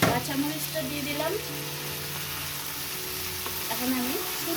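Chewa fish frying with potatoes, tomato and green chilies, a loud continuous sizzle with gentle stirring scrapes, and a voice briefly speaking over it near the start and end.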